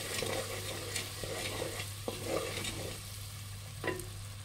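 Coriander, cumin and sesame powder get stirred into a simmering fish curry, giving soft scraping spoon strokes over a low, steady background hum with a faint sizzle and no speech.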